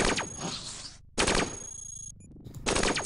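Rapid weapon fire in the roguelike video game Cogmind, three loud bursts of fast repeated shots separated by brief silences, each burst crisp and close with a thin electronic tone trailing behind.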